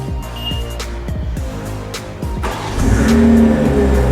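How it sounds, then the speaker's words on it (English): A BMW started remotely: the starter cranks in a few quick bursts, then the engine catches and settles into a louder steady idle, close by and without talk. "In order to start your car remotely, you'll need to press the lock button 3 times."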